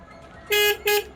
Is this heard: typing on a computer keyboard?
no